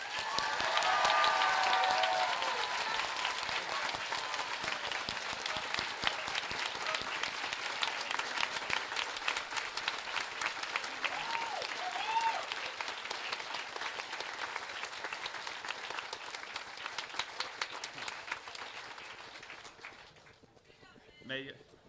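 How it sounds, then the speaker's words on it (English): Sustained round of applause from a large audience at a high school graduation ceremony, loud at first and then steady for about twenty seconds before tapering off, with voices speaking over it. "can we all get a good round of applause?"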